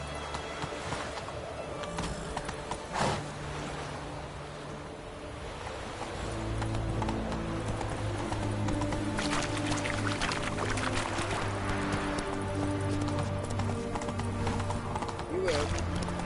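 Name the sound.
horse Roach trotting, from video game The Witcher 3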